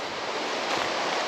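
River rapids on a trout stream rush in a dense, continuous broadband roar, close and steady with no voices.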